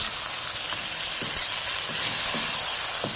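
Tomato paste made from three tomatoes hits a hot pan, giving a steady close sizzle and hiss with a few soft stirring scrapes, no talk.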